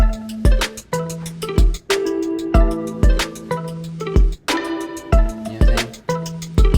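A layered hip-hop beat with punchy kicks and snappy hits in a steady groove, threaded with a reversed plucked harp-like one-shot sample swelling into each hit, loud and up front without voices.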